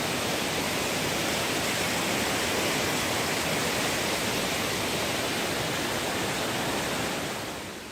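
Rock Run, a Pennsylvania creek in high water, rushes loudly and constantly, a dense, unbroken roar of flowing water heard close by without pause.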